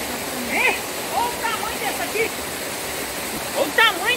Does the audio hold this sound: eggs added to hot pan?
no